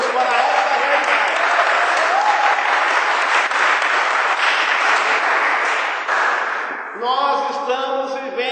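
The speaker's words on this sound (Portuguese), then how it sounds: "pode dar uma salva de palmas para o Senhor Jesus" Dense, loud applause from a church congregation during a worship service, a steady wall of clapping that fades after about seven seconds as a voice begins talking.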